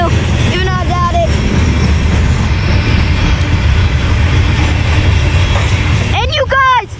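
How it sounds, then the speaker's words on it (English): Freight train with a mid-train DPU locomotive passing Saint Denis near Halethorpe, Maryland, a loud, continuous rumble close by, with excited voices and whoops breaking in near the start and end. "Here's a DPU, a mid-train DPU, right in the middle"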